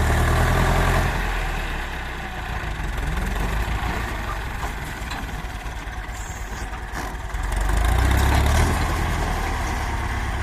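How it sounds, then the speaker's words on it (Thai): A loud Ford 7740 tractor engine runs steadily and close while grading tree stumps, rumbling and swelling in intensity at times, with no voices. "สำหรับท่อ7740 ครับ เสียงนี่ ลั่นพุ่งมากครับ"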